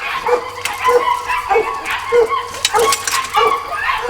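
Several dogs, including a female in heat, bark and yip in short bursts mixed with whimpers, close by and fairly loud.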